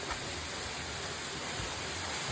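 A waterfall roaring steadily nearby, a dense continuous wash of falling water with no breaks and no voices.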